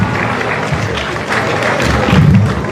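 Loud, dense applause from a large audience at a political gathering, a continuous roar of clapping with crowd noise and some low thumps throughout.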